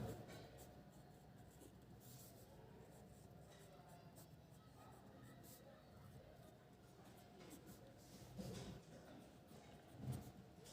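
Pen or pencil writing on paper during a class 10 math lesson, soft scratchy strokes heard close under faint room noise, with a couple of louder rustles near the end.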